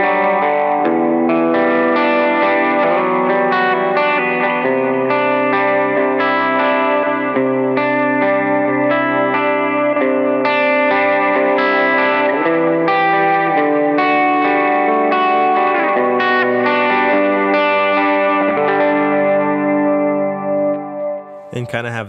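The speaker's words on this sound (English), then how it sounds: "sometimes I'll dial up the gain on Sick As to make it a little bit more of an incremental gain jump there" Electric guitar running through an ambient pedalboard with the overdrive gain turned up, sustained distorted chords with chorus and echo ringing continuously for over twenty seconds, full and loud.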